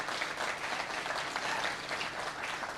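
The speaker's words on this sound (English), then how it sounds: "Let's acknowledge him with a round of applause." Audience applause at a national dialogue event in Ghana, a short burst of dense, even clapping from a crowd with no talking over it.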